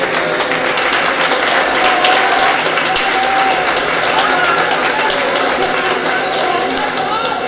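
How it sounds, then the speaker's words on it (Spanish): An audience applauds steadily for a Californian artist, a dense, sustained wash of many hands clapping at close range, with a few voices mixed into the crowd noise throughout. "un aplauso para él"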